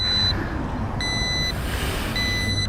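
Warning beeps from a Sur-Ron electric bike flagging a water pump error, three evenly spaced high electronic tones, each about half a second long, sounding clearly over a low background rumble.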